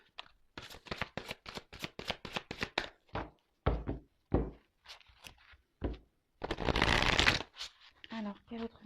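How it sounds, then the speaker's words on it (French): Playing cards shuffled repeatedly during a tarot reading, a fast run of crisp riffling flutters and taps close by, followed by a longer continuous shuffle, with no talking over it. "Allez, je prends encore quelques cartes."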